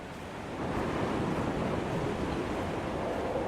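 Steady roar of storm wind and crashing surf on an island in Dear Esther, a broad continuous wash of noise that swells slightly after a moment and stays loud and even, with no voices.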